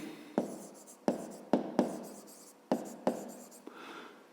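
Pen writing an answer down on paper, six or so short distinct scratching strokes spaced irregularly, close and fairly quiet in an otherwise silent room.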